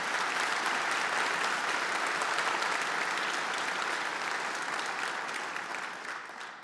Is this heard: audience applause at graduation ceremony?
yes